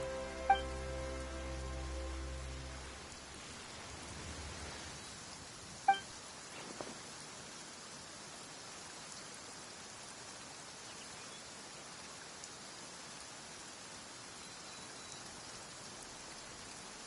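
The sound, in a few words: rain falling in the video game Genshin Impact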